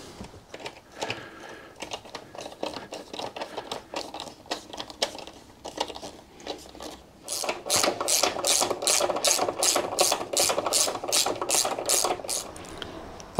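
Bolts being fitted to a Royal Enfield Bullet 350 touring seat: quiet mechanical clicking and rattling at first, then a fast, loud, steady ratcheting run of clicks up close before it slows near the end.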